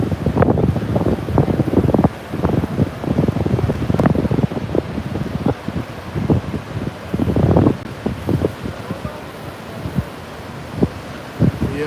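Wind buffets the microphone on Daytona Beach while ocean surf washes in the background, giving gusty, uneven rushes and thumps with no voices.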